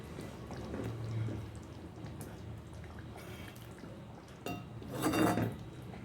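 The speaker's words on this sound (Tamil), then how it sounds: "இப்போ அப்படியே நம்ம உடச்சி ஊற்றின முட்டையை அப்படியே திருப்பி விட்டுடலாம்" Broken eggs being flipped in a pan while making egg curry: soft scrapes and clinks of a utensil against the pan, a few louder clatters near the end, faint and close, without speech.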